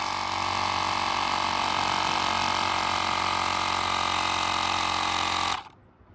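An LnkXT portable tire inflator pumping up a small bike tire, a loud buzzing electric pump with a steady rattling drone that runs continuously, then cuts off abruptly near the end, with no talk.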